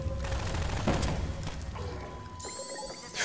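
A homemade gun in Half-Life 2 fires a rapid burst of gunshots that rattle like a machine gun for about two seconds, then falls away into a brief mechanical tail.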